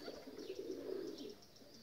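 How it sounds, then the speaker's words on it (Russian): Pigeons coo softly at an old dovecote, a faint, steady low murmur of cooing that continues without a break, with no talking over it. "надо будет со старой голубятни выбирать голубей"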